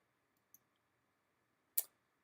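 A single computer mouse click lands sharply near the end, preceded by a fainter tick, against a quiet, nearly silent background.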